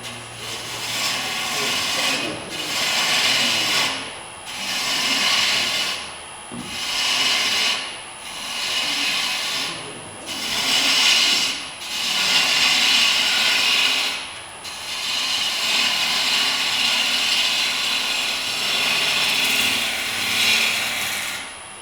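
A gouge cuts into a wooden bowl blank spinning on a lathe, a loud hissing, tearing scrape rising and falling in repeated passes every couple of seconds, with short pauses between cuts.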